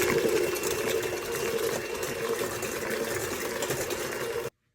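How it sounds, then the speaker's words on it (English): An electric mixer beats eggs and other cake batter ingredients for a chocolate raspberry cake roll, a steady close whirring drone with a strong motor hum that runs unbroken and then cuts off abruptly. "Now beat the ingredients together for about 5 minutes or until the mixture gets nice and thick and foamy"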